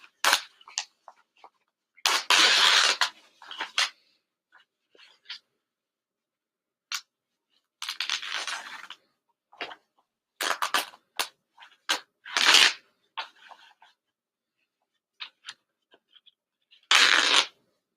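Scissors snip around embroidery in short bursts with pauses between cuts, crisp and close, in otherwise quiet surroundings.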